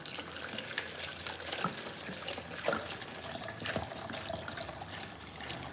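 Tap water runs steadily into a pot in a home kitchen, a continuous faint splashing and trickling with a few small clunks, no voices heard.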